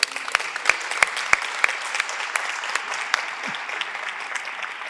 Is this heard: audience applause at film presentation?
yes